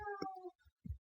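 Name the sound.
cat meowing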